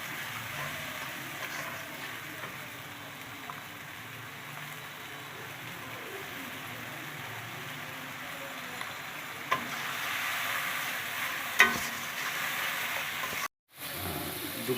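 Tomato paste and salt frying in hot oil for a Bengali rohu fish curry, a soft steady sizzle with occasional stirring scrapes and a brief clatter near the end.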